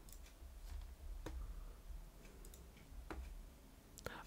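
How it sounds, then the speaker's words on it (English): A few faint, sharp clicks are spaced irregularly over a low background hum, like occasional keyboard key presses. "Sorry if you can hear my keyboard"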